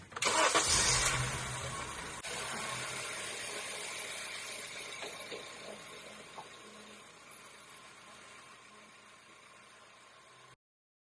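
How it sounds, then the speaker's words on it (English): A high-mileage car with 252,000 miles cranks and fires with a loud burst, then settles into a steady idle that slowly quiets over several seconds before cutting off. "Start the engine and take a closer look."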